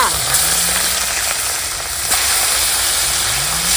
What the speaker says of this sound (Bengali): এই যে দেখো বন্ধুরা বাটা মাছ ভেজে নিচ্ছি